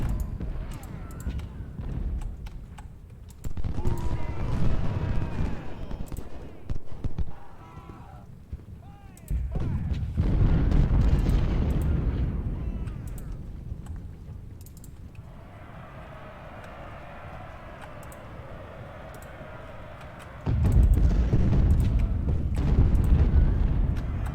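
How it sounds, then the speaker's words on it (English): Artillery fire in the Civil War strategy game Ultimate General: Civil War, heavy low booms and rumbling bursts recurring through a noisy battle soundscape, with a steadier mechanical hum in the middle stretch. "Stupid artillery."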